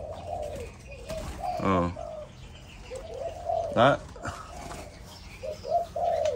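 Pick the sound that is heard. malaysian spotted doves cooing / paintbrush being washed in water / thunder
malaysian spotted doves cooing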